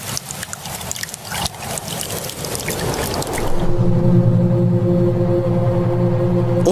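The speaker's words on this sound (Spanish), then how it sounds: "Este tubo de desagüe se lleva el agua de forma segura de la base del jarrón, manteniendo el nivel de agua correcto." Water drains through a drainage tube from the base of a pitcher-shaped carnivorous plant, trickling and pouring continuously, first with a busier splashy texture and then settling into a steadier flow with a faint hum beneath.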